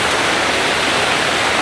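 Brown, muddy water pouring down from an irrigation dam in Cavite, a loud continuous broadband rush close by, with no voices over it.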